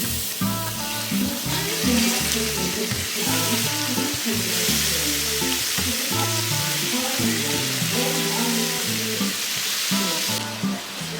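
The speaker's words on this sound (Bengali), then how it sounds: "এক সাইড চিকেনগুলোকে ভালো মতো ভাজা হয়ে গেছে" Marinated chicken pieces frying in melted butter in a hot pan, a continuous crackling sizzle that stays close and fairly loud throughout, with no voices.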